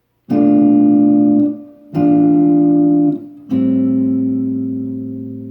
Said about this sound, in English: Everybody is familiar with this common minor 2-5-1 progression.